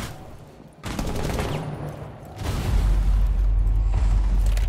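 Video game gunfire arrives in two bursts, each a dense, loud rattle of rapid shots close up, the second longer and heavier with a deep rumbling tail.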